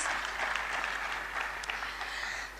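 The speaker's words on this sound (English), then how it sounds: "Please give him a round of applause" An audience at an annual academic lecture gives a dense, steady round of applause, many hands clapping together at moderate loudness throughout, with no one speaking over it.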